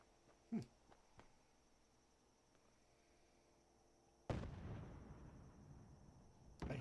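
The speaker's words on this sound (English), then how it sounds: "I hear the explosions" A heavy explosion in Fallout 4: Far Harbor erupts suddenly after a quiet stretch, then rolls on as a loud, sustained rumble; a sharper distant blast comes earlier.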